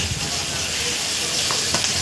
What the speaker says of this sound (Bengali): পেঁয়াজ আর লঙ্কা আর কাঁচা লঙ্কাটাও দিয়ে দিলাম এবার লাল লাল করে ভেজে নেবো